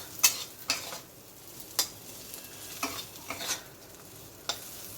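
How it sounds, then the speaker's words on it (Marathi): Grated coconut stirred into sweet-and-sour bitter gourd in a pan, several separate scraping strokes of a spoon against the pan over a faint low sizzle, close and fairly soft, with no speech. "तर मी आता हे 1 चमचा खोबरं टाकते, मिक्स करून घ्यायचं"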